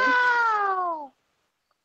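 A person imitates a cat with one long, clear, slightly falling meow lasting about a second, close and fairly loud, followed by silence.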